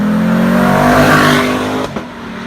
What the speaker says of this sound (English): Like, it really has that exhaust note.